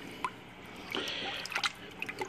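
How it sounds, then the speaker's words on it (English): Aquarium canister filter sponges, including egg crate sponges, are rinsed in tank water, giving soft intermittent drips, splashes and trickles close by at low volume. "Those just get really, really rinsed really well."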